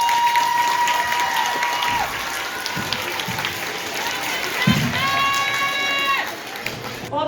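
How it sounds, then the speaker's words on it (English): A school assembly audience claps together in a sustained round of applause welcoming a guest speaker to the stage, with scattered voices and a brief electronic tone heard over the steady clapping. "Please welcome her to the stage with a big round of applause"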